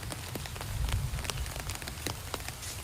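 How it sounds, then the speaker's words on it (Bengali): Steady rainfall pattering on surfaces, a continuous wash of drops with occasional sharper individual hits, moderately close and without any voices. "দেখো বৃষ্টি আর বৃষ্টি, এখনো বৃষ্টি পড়েই যাচ্ছে"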